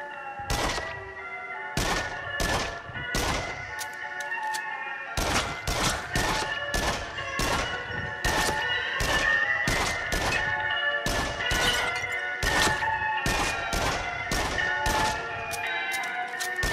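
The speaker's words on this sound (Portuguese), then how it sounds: "É uma metralhadora, uma machine gun." Loud, close machine gun fire blasts out in repeated rapid bursts with short gaps in Until Dawn: Rush of Blood, a PS VR horror shooter played on PS4 Pro, over a tonal game soundtrack.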